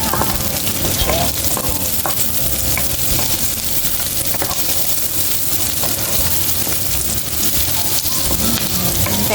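Red chili sizzles and crackles in a hot pan with onion and chicken for Bicol Express, a continuous close frying hiss broken by occasional stirring scrapes.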